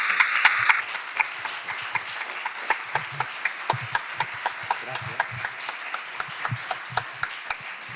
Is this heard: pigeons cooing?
no